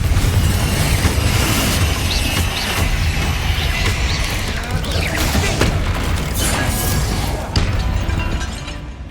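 Repeated Confringo fire spells burst in Hogwarts Legacy, a loud barrage of booming blasts and crashing impacts that continues without pause, with a voice occasionally calling out over the din.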